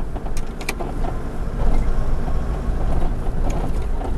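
A vehicle approaching on a dirt track in Grampians National Park: a low engine rumble with gravel crunch, steady and fairly close, with a few faint clicks and no talking.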